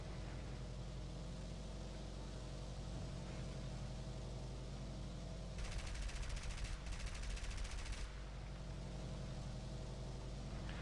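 Aircraft tail gunners firing in War Thunder on a German tier 6 mission: a steady mechanical drone carries a hissing burst of rapid machine-gun fire in the middle, with no talking.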